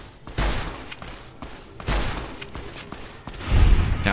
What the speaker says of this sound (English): Who is my partner shooting at?